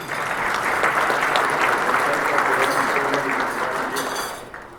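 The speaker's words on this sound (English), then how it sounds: "of course, clap for that, yes." Audience applause at the Marana State of the Town 2022 event in Arizona, a steady dense wash of clapping from a large crowd that holds for several seconds before thinning out at the end.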